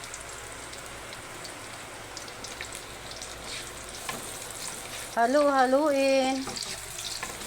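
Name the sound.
garlic and onion frying in a pan for kaldereta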